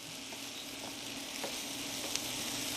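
Broccoli casserole sizzles and fries steadily in a pan on the stovetop while being stirred, a continuous crackling hiss with faint scrapes and no talking.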